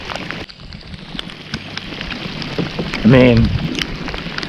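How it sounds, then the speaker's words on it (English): Rain patters steadily on the water and a kayak during saltwater fishing at Gasparilla, Florida, on a windy day, a soft continuous hiss with someone speaking briefly near the end. "it just feels so good to be in some rain finally"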